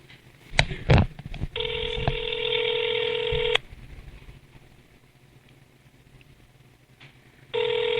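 Touch-tone telephone dialing for a prank call to a fish camp in Weeki Wachee, Florida: a few sharp clicks and handling noises, then a long steady DTMF tone, a quiet gap, and another tone starting at the end.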